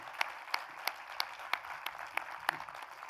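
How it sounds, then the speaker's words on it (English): Faint, sparse claps sound in a steady rhythm of about three per second, like a few people applauding at a university president's convocation, heard distantly with no talk. "How about a round of applause for Thomas Poon?"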